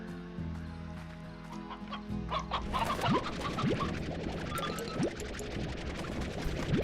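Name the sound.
chickens clucking, video game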